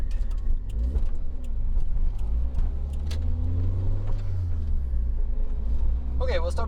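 A Toyota AE86 Sprinter Trueno pulls off and drives, its engine a steady low rumble rising gently as it gets moving, with a brief squeak near the end.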